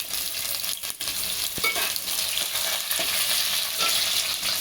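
Onion added to hot oil with cumin, cloves, cinnamon and bay leaf for masala rice sizzles and crackles loudly and close, with brief stirring scrapes throughout.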